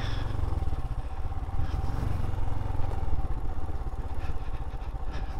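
A Royal Enfield Himalayan motorcycle runs on a steep downhill trail, its single-cylinder engine holding a steady low-revving chug close to the microphone with rattling clatter, no voices.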